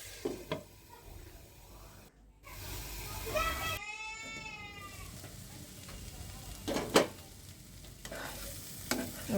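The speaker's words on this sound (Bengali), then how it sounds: "একটু নেড়ে ছেড়ে দিলাম।" Food frying in a pan sizzles steadily while a utensil stirs it in a few brief scrapes, with a voice and a short animal-like bleat heard over it.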